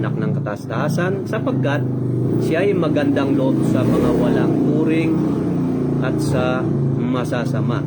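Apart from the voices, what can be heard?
motorcycle speeding by on a small road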